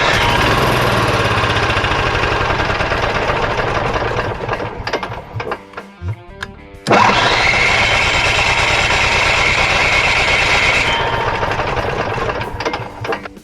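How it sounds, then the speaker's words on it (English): An Onan 4000 generator engine, fuelled with gas and Seafoam, runs loud and close with a steady rapid chugging, falters and sputters briefly midway, then surges back to a full, even run. "we'll start it and run it as much as we can to get that seafoam in that carburetor"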